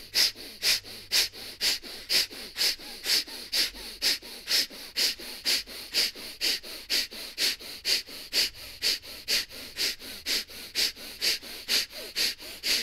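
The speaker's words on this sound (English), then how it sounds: "Fierce breaths." Fierce, forceful breathing-exercise breaths repeat in a fast, even rhythm, each a sharp nasal puff heard close up, about two per second and continuing throughout.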